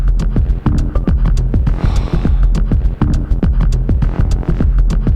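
A Digitakt II drum machine plays its default pattern, thumping out a fast, steady beat of punchy kicks and clicking hits, loud and close, looping without pause.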